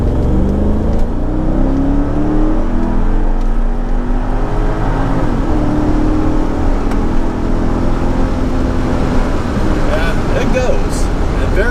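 Mercedes SL55 AMG under hard acceleration, a loud sustained engine roar rising in pitch through the gears with road and wind noise throughout.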